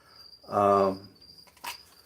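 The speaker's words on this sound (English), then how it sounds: "We are about to feed him crickets." Faint chirps pulse in the background from crickets about to be fed to a sugar glider, while a short voiced sound rises loudly in the middle, followed by light rustling and a click.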